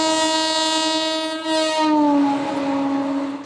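Train horn at Anand Vihar railway station, a loud, sustained, rich harmonic blast that dips in pitch partway through and fades at the close, heard alone without talk.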